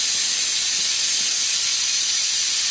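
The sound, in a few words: pressure cooker releasing its pressure with a steam hiss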